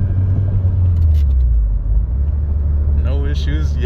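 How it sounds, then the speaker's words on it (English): A Honda Civic Si running on a replacement engine drives along, giving a steady low close rumble from the engine and road, with someone speaking briefly near the end. "All right, so I'm gonna just continue driving."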